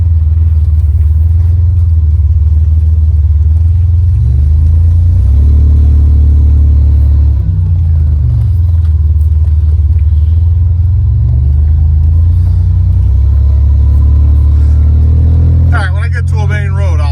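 Buick Grand National with a freshly installed engine cruising on a Sicilian mountain road, a steady low rumble that swells and eases with throttle changes, droning continuously with brief higher-pitched noise near the end.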